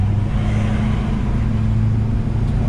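A 1970 Chevrolet C10 pickup truck with front disc brakes and rear drums drives along, its engine giving a steady, loud low rumble throughout with no talking.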